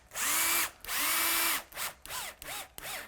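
A power drill-driver spins up in short whirring bursts, driving screws to fit hinges onto a double-glazed sealed-unit window for a log cabin; two long runs are followed by several quick, pitch-sweeping pulses, close and alone.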